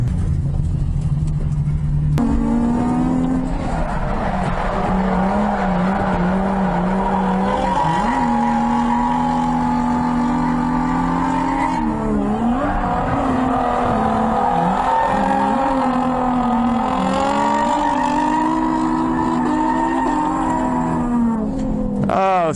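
A Nissan 350Z drifts in tandem at a drift event: a loud, continuous engine drone that rises and falls in pitch, with tire squeal throughout.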